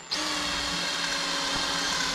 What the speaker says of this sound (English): now you wanna drill it in, Hunter.